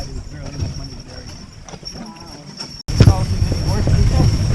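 Horse hooves clip-clop steadily as a carriage rolls along in Acadia National Park, a rhythmic patter under people talking, growing louder and closer in the second half.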